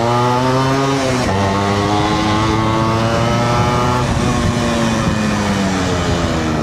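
An RX100 two-stroke motorcycle engine revs hard as the throttle is twisted, its loud buzzing drone rising and falling steadily throughout with a brief dip partway through, no talk over it.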